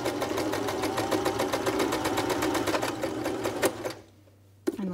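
Sewing machine stitching a test piece of muslin at about a 2.5 inch stitch length, a fast steady mechanical clatter close up that stops abruptly near the end, leaving a low hum before a brief click.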